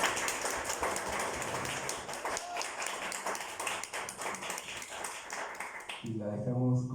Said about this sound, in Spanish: Les pido un aplauso cálido para Alejandra.